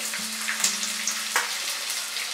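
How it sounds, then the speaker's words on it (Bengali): Two medium sliced onions dropped into hot white oil in a wok on high flame, giving a continuous close hissing sizzle with a few brief crackles and pops, no talking. "তেলটা ভালো মতো গরম হয়ে গেলে আমি এর মধ্যে দিয়ে দিচ্ছি 2টো মাঝারি সাইজের পেঁয়াজ"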